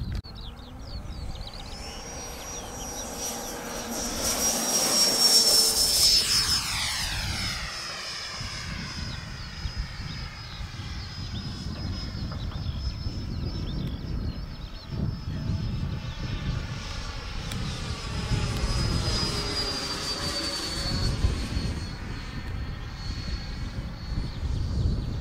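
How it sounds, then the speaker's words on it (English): A FLYFLY Hawker Hunter model jet in Royal Navy colours flies overhead, its high, steady turbine whine rising and falling as it passes, loud and then fading, with brief talk underneath. "He's going to have a go with his FLYFLY Hawker Hunter."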